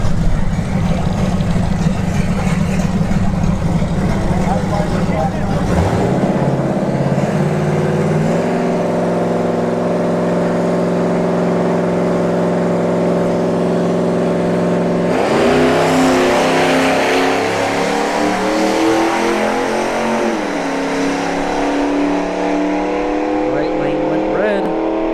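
A Nissan Skyline GTS-T drag racing car at a motorsports park revs hard and accelerates, its engine note climbing through gear changes in a loud, sustained roar over roughly twenty-five seconds, with a commentator talking throughout.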